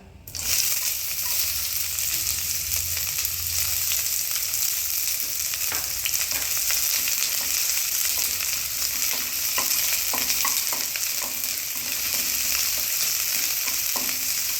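Onions frying for poha in a hot pan give a loud, steady broadband sizzle that runs unbroken throughout, with a few soft clicks and stirring scrapes scattered through it and no speech.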